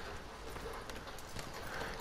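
Horse hooves clip-clop steadily in Red Dead Redemption 2, a continuous rhythmic patter of hoofbeats at moderate loudness with a faint background wash.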